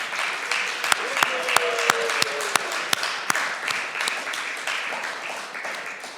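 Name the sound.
audience applause at awards ceremony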